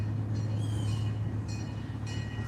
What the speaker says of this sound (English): And we got the train right there.